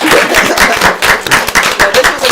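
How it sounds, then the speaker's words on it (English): A small audience gives a round of applause at a live event. Loud, close claps beat in a quick, uneven pulsing rhythm for a couple of seconds. "Round of applause for y'all."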